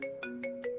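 Phone ringtone repeating as an outgoing call goes unanswered, four short bright tonal bursts in a steady rhythm, moderately loud and close, with no voices.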